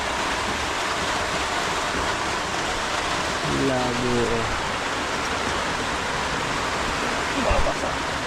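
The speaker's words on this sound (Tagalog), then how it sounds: "tigil muna ang gawa at lumakas ang ulan." Heavy rain pours steadily over an outdoor work site where a utility pole is being worked on, a dense even hiss throughout, with someone speaking briefly.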